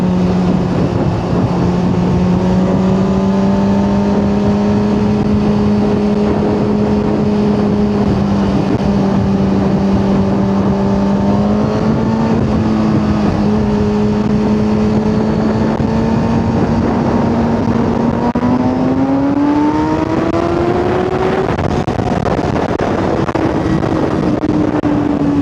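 A car cruises along Oxfordshire backroads, its engine drone steady and close with a slowly rising pitch as it accelerates, wrapped in constant wind rush over the whole stretch.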